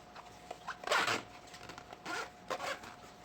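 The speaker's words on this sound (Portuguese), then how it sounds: "o zíper tem que abrir todos os zíperes pro mesmo lado" Zipper on a synthetic leather school pencil case pulled open in several short rasping strokes, close and clear in a quiet room.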